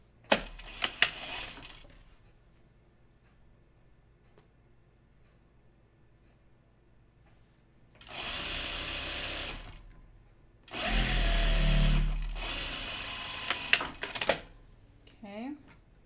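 Sewing machine running on the shoulder and side seams of a Texas Top, two bursts of steady whirring stitching lasting a few seconds each, with quiet gaps and light handling clicks between.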